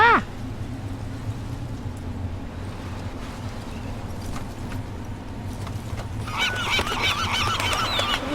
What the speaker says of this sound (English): Look at that pretty birds.